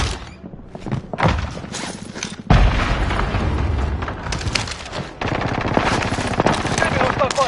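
Video game gunfire rips through a battlefield scene, loud sustained machine-gun bursts with heavy booms and thuds, continuous and close with scarcely a break.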